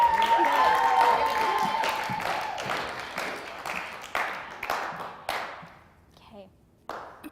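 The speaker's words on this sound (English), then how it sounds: "like to give her a round of applause" Audience clapping for someone speaker at a TED talk, loud at first and then thinning into scattered claps that die away. A brief high tone is heard early, and a few last claps and thumps follow near the end.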